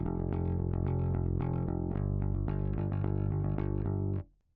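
Bass guitar playing a line without palm muting, notes left ringing into each other; a steady run of plucked notes, close and loud, with no talk, ending in a quick fade.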